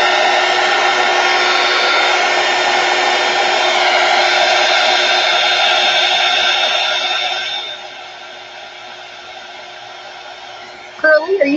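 A hair dryer blows steadily and loudly up close to dry blue ink during crafting, a strong continuous whoosh that drops to a lower, quieter setting partway through before a brief clatter at the end.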